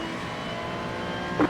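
A race car in the iRacing sim-racing game drones past on the left, its engine a steady, close, buzzing roar that swells slightly at the end.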